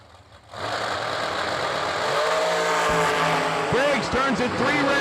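Drag race cars rumble loudly at a drag strip, a sustained engine roar that swells after a quiet start, with a track announcer talking over it.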